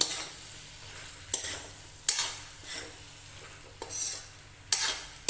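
Potatoes and chopped brinjal are stirred together in a pan for a dry Punjabi aloo baingan dish, with a scraping spatula sweep every second or so over a faint sizzle, close and alone without talk.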